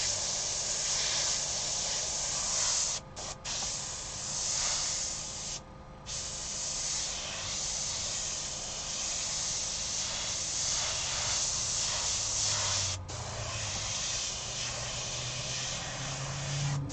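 An airbrush hisses continuously and close by for a long stretch, with a few brief dips where the trigger lets off, and faint low background noise underneath.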